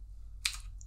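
Single quiet keystroke on a computer keyboard, a short crisp click followed by a faint tick, heard alone against a low background hum.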